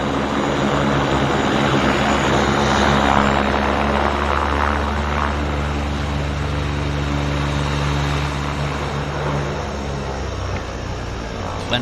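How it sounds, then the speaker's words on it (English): A turbo floatplane at the Vancouver Harbour floatbase starting up and taking off, with a loud steady engine and propeller roar that holds throughout and eases slightly toward the end, with no talking. "we've got that turbo starting up in front of us as well"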